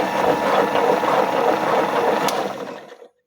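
A pellet mill granulator with a newly restored die starting up and running, a steady buzzing mechanical drone close by that holds for a few seconds and then shuts down.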